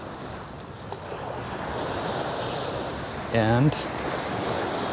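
Ocean surf washes onto a beach in Aruba, a steady rushing wash mixed with wind buffeting the microphone, while a short whistling or chirping sound cuts in briefly near the end and a voice speaks faintly.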